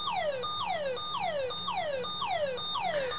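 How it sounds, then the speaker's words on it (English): An FBII StarFone home security system alarm, 1980s, repeats a falling, whooping two-tone chirp about every half second, steady and moderately loud, with no voices. "Front entrance is in alarm."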